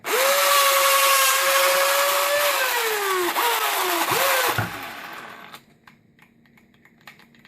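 Old cordless drill motor whining loudly for about four and a half seconds, pitch dipping and bogging as the gears load and lock up, then cutting out abruptly into near silence.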